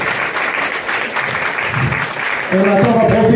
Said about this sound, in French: Donc on peut applaudir Hélène pour aller poser.